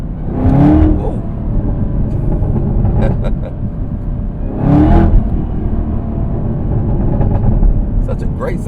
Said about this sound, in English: Such a great sounding engine though.